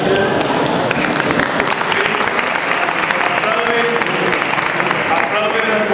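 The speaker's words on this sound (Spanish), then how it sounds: "Aplauden las mujeres" Audience applause fills a conference hall after a talk at a congress, steady dense clapping held at an even level throughout, with voices faintly mixed in.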